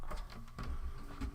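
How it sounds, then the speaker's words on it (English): A home printer runs through a 24-page document in a muffled, uneven mechanical churn of feeding and print-head movement, low and somewhat distant, with no voices. "it's because I just printed something I want to share with you guys"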